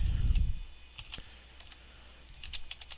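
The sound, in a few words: typing code on a computer keyboard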